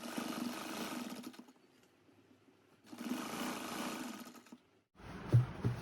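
A sewing machine stitches a salwar seam in two sustained bursts of fast whirring, each about a second and a half long with short pauses, followed by a brief clunk and a final short run, close and clear.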